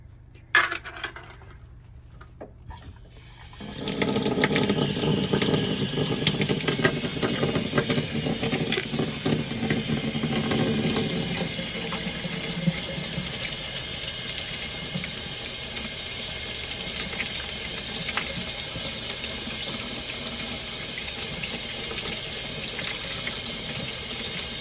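Water runs steadily from a tap into a sink, starting after a few seconds of near silence and continuing as a loud, continuous rush with faint clinks, no talking.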